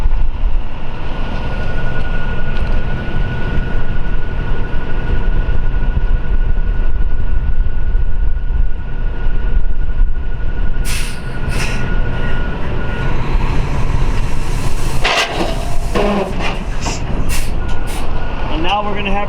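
A semi truck pulls its trailer ahead a short distance after the tandems are slid at a trucking yard, a steady, loud engine rumble with clanks and air-brake hiss near the end, under a voice.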